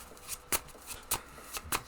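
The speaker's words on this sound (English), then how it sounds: "So I'm gonna shuffle." A deck of modern spellcaster tarot cards is riffled and shuffled in quick, crisp bursts, soft papery flutters repeating about every half second, close and quiet.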